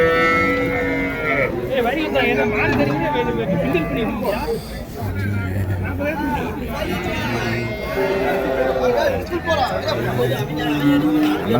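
Cattle moo repeatedly, low and drawn-out, amid constant crowd chatter and voices at a busy livestock market in Orappam.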